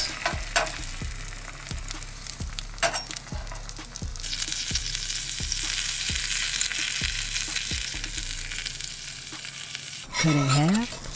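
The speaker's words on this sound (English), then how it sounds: "Brown both sides of the sandwich," A Monte Cristo sandwich browns in a pan of oil and butter, a steady bright sizzle running throughout with regular soft clicks and knocks of a utensil, then a short tonal squeak near the end.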